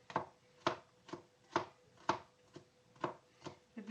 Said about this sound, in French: après on coupe en petits morceaux